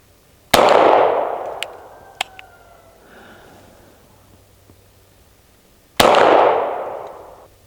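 Two sharp, loud pistol shots from a CZ P-07 fired outdoors, spaced about five and a half seconds apart, each followed by a long decaying echo, with faint clinks and clicks in the quiet gap between.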